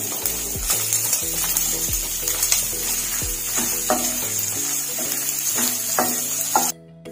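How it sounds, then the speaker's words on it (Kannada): Chopped onion with garlic and green chillies frying in hot oil, a steady close sizzle broken by repeated scraping stirs of a spoon in the pan, with no one talking. "ಎಣ್ಣೆಯಲ್ಲಿ ಎಲ್ಲ ಈರುಳ್ಳಿ ಎಲ್ಲ ಚೆನ್ನಾಗಿ ಫ್ರೈ ಆಗ್ತಿದೆ, ಕಂದು ಬಣ್ಣ ಬರಬೇಕು."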